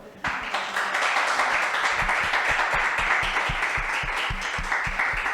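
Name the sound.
congregation applause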